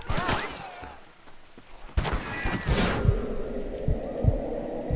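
Gunshots in Red Dead Redemption, several sharp booming reports in quick succession with ringing decay, over a low throbbing game backdrop.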